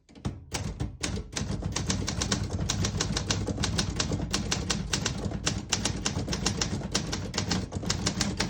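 Rapid, continuous clacking of the keys of a 1970 Olympia SM8 portable typewriter, dense and mechanical, with a brief pause near the start before steady typing resumes, heard up close.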